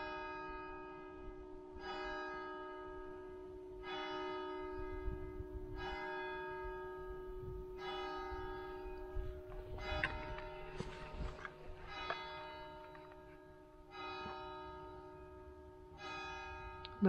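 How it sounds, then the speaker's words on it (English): Church bell tolling at St Mary's the Virgin, St Chad's Church in Brewood, striking roughly every two seconds with long ringing tones, heard from a moderate distance with some rustling and handling noise in between. "Did you set the bells off? Did you get somebody to do the bells?"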